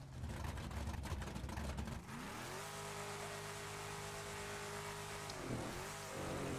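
In a video game, a truck engine revs for a nitrous launch: a rough, noisy rumble opens, then the engine tone climbs and holds a high, steady whine before briefly dipping and recovering.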